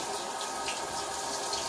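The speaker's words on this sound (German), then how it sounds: "den Hobel kurz abspülen" A shaving razor rinsed under a running tap, giving a soft, steady splash and trickle of water, faint and unbroken, with no voices.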